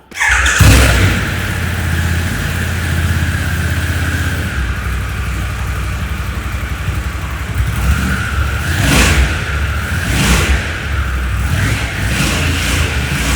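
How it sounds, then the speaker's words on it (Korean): A Harley-Davidson Pan America 1250 Special motorcycle with its stock 1250cc exhaust starts and idles with a deep, steady rumble, then revs a few times, loud and close. "머플러가 순정입니다. 소리 한번 들어보겠습니다."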